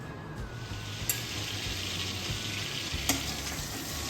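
Mixed vegetables, tomato, onion, grated carrot and a little capsicum, sizzle in butter in a pan with a steady close hiss, broken by a couple of brief stirring scrapes.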